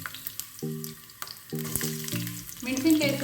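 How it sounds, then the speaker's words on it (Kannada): Ginger and a green chili with cardamom and cloves fry in hot oil in a pan, a steady close sizzle with brief stirring clinks, building louder toward the end. "ಒಂದು ಅರ್ಧ ಇಂಚಷ್ಟು ಶುಂಠಿ ಇದೆ, ಆಮೇಲೆ ಒಂದು ಮೆಣಸಿನಕಾಯಿ. ಸ್ವಲ್ಪ ಫ್ರೈ ಮಾಡ್ಕೊಬೇಕು."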